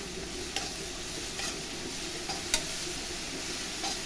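Ginger garlic paste stirred in a frying pan, a steady low sizzle with a few soft scrapes of the spoon against the pan, close and fairly quiet, no voices.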